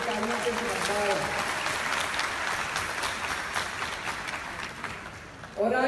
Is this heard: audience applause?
yes